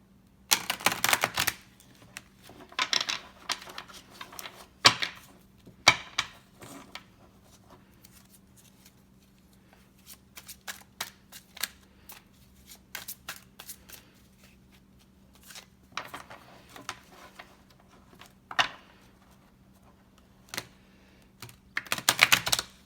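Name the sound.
shuffling cards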